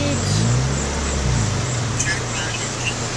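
Steady road traffic noise heard from inside a car, likely a Honda DC5, driving through heavy rain, with a continuous low engine and tyre rumble and a hiss of wet road under faint talk.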